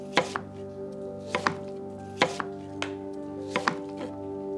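A knife chops food on a board in irregular bursts, sharp near cuts landing in uneven doublets and clusters, loud and close over a steady low hum with no speech.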